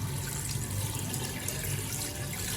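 Water pouring steadily into a pot of browned mutton paya (trotters), about 1.5 litres, a continuous splashing, gurgling fill heard close up with no talking.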